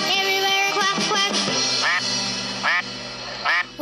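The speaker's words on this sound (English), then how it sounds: "With a quack quack here and a quack quack there" Cartoon duck quacks in an animated Old MacDonald nursery rhyme, several short nasal quacks repeating over a bright, loud musical backing.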